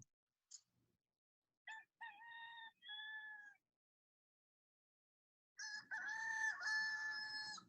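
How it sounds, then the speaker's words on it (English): A recorded rooster crow plays back in short clear bursts, then after a pause a longer, louder crow sounds, with a faint low rumble beneath it. "We're going to play you a rooster crowing and see if you're going to answer"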